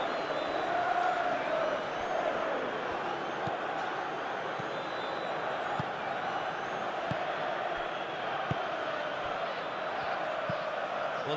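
Stadium crowd from the football video game PES 2021, a steady roaring murmur of many voices with rising swells, heard under a commentator's talk throughout.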